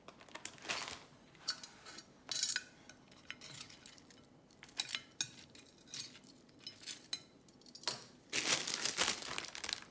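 A plastic bag of packaged salad being opened and handled, giving repeated bursts of close crinkling and rustling, with a longer, denser stretch of crackling near the end.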